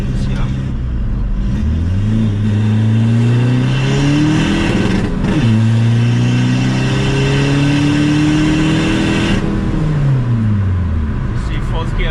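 A stripped-down VW Polo TDI with a big turbo revs hard as it accelerates through the gears, the engine pitch climbing, dropping at each shift and climbing again, loud and close throughout.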